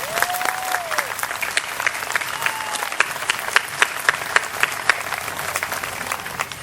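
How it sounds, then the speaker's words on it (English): A crowd applauds a historic color guard at the 2015 Freedom Fest at Fort Rucker, with sustained clapping and sharp individual claps standing out. A brief whistle rises near the start, and the applause stays strong throughout. "Please join me in a round of applause for our historic color guard."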